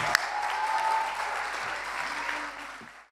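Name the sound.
audience applause for debater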